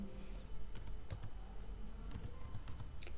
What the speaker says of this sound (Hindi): कीबोर्ड लिख के मैंने एंटर करा